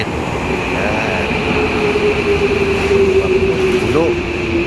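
Tokyo subway train arriving or running: a steady rumbling roar with a sustained electrical whine and a brief rising squeal toward the end, filling the whole stretch.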